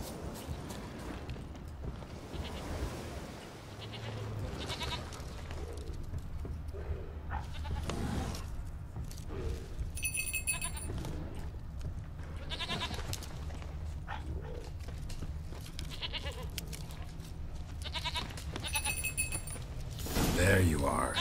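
Goat bleats from the video game The Witcher 3: Wild Hunt come and go over a dense ambient soundscape with shuffling and clatter, and a person talks intermittently throughout.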